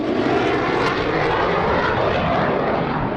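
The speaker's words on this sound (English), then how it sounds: "Round for a high-speed pass," Aircraft roaring past at high speed during an airshow display over Jersey, a loud, dense, continuous engine rush filling the short stretch without any voices.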